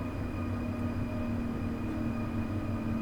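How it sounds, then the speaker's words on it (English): An ICE 1 high-speed train in Train Sim World slowing toward a stop, a steady low rumble with a sustained electric whine and tonal hum, even and continuous throughout with no voices. "the train will actually just come to a stop"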